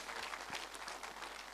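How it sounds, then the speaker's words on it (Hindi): Audience applause at a network marketing seminar in India, heard as faint, distant clapping that stays even throughout the brief moment. "मैडम के लिए एक बार जोरदार तालियां जरूर होनी चाहिए"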